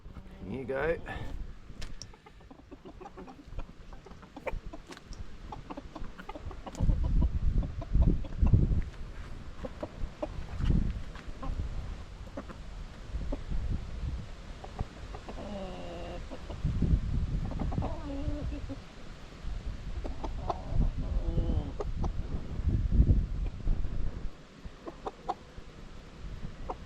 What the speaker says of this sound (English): I'll give some to the roosters first, and then we'll go and feed them.